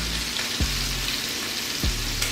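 Burger patties frying in a pan, imitation Krabby Patty burgers, give a steady close sizzle with crackle, while two low thumps, likely utensil or pan knocks, break in along the way.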